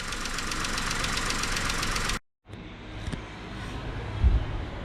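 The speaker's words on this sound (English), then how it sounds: "I'm going to let the engine to work." A Skoda Rapid 1.2 engine runs steadily after a timing chain replacement, a close, even idle drone with a rhythmic ticking, then cuts out briefly before a quieter, rougher running sound resumes.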